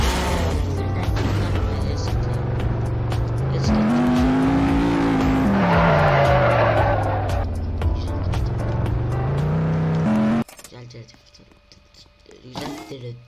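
A car drifts in the Roblox game Car Crusher 2, its engine holding a sustained revving whine with rising and falling pitch and tire noise for about ten seconds before cutting off abruptly, leaving quieter game sounds.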